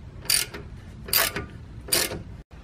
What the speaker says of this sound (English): First we pull the rear caliper bolts. The rears are 13mm.